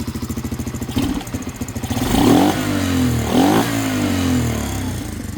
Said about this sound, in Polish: bardziej ten stożek zasysający powietrze ma taki ryk swój charakterystyczny